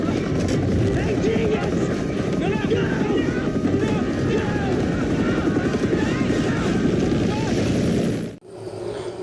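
The steady, loud thumping roar of a helicopter fills the scene with rapid rotor chop, then cuts off abruptly near the end.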